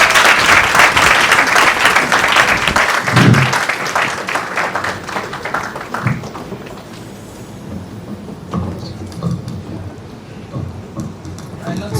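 A crowd at a moot court competition claps loudly at first, then the applause thins and fades into scattered clapping with some background murmur.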